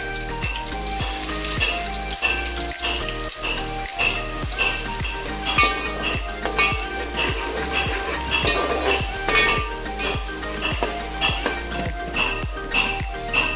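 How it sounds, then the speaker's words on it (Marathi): Onion frying in hot oil for a crab and fish curry, a loud dense sizzle with clinks of a metal spoon on the pot and stirring scrapes, close up with no talk. "तेल गरम झालेलं आहे सर्वात पहिली प्रोसिजर आपली कांदा येस कांदा टाकून घेऊया"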